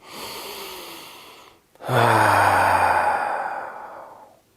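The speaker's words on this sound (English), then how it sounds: "take a nice big inhale through your nose and exhale out your mouth" A person breathes in deeply through the nose, a soft airy inhale, then after a brief pause lets out a louder, fuller exhale through the mouth that slowly fades, close and alone.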